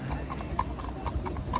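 Horse hooves clip-clop at a steady walking pace on a Vienna street as a horse-drawn carriage ride gets under way, the hollow knocks fairly close and regular against a low rumble of traffic and town noise.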